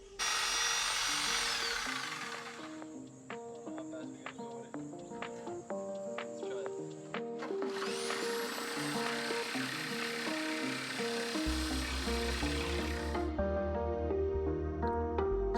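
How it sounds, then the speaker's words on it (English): Power drill and jigsaw making test cuts in the metal body of a Sprinter van, a steady high whine with a choppy rattling buzz running almost continuously, loud and close, pausing briefly midway before the cutting resumes. "so I can see how it feels to cut this metal with the jigsaw"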